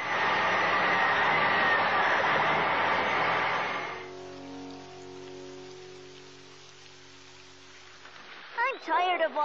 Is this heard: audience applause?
no